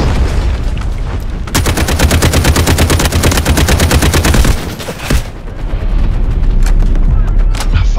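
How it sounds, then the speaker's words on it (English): Heavy gunfire and rocket impacts batter an M1A4 Abrams tank in the Delta Force video game, a loud, rapid string of shots and booms lasting several seconds, then a short lull and more scattered blasts. "they're sending rockets at us"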